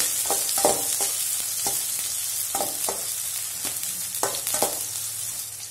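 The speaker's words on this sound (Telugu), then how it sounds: "రెండు పచ్చిమిర్చి చీలికలు వేసుకొని ఒక 2 నిమిషాల పాటు బాగా ఫ్రై చేసుకుందామండి" Slit green chillies fry in a pan with a steady bright sizzle, punctuated by rhythmic stirring scrapes every second or so, close and without speech.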